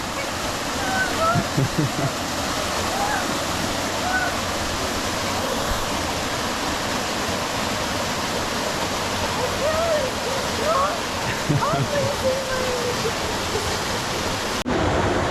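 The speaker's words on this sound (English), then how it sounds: "Over to the waterfall." A waterfall at Crystal Creek roars as a steady broad rush of water, close and constant, with faint voices now and then beneath the noise.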